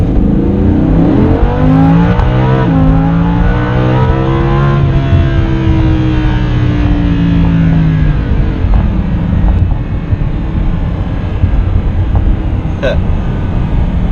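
A 2016 Lamborghini Huracan 580-2 in Strata mode pulls hard under acceleration. The loud engine note climbs steadily in pitch for several seconds, then evens out into a sustained roar.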